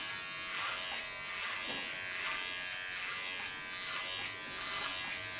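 Electric clippers shaving the nape underline of long hair, a continuous close buzz that swells into short louder passes roughly once a second as the blades move along the neck.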